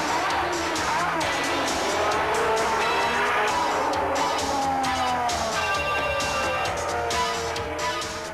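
Formula 1 race cars from 1988 run on a drying track, their engines howling loudly and continuously with rising and falling pitch as they pass, with a commentator's voice talking over them throughout.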